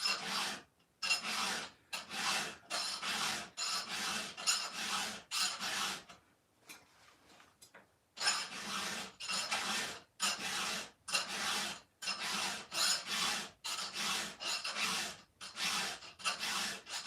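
Hand file rasping a chainsaw chain during sharpening: close, steady strokes in a regular rhythm, a brief pause near the middle, then the strokes resume with no talking.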